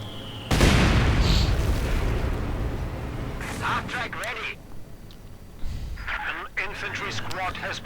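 Mortar rounds and explosions boom in a Company of Heroes 2 battle, with a sudden heavy blast followed by rumbling and scattered pops, under a commentator's voice talking throughout.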